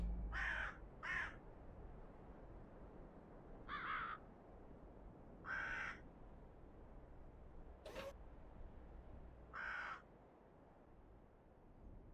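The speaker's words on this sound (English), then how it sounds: "It's kind of funny that I'm just sitting there hearing crows." Crows caw in World of Tanks, a tank battle video game, sounding as six or seven separate short calls spaced a second or two apart, fairly faint and distant over a quiet low ambient hum.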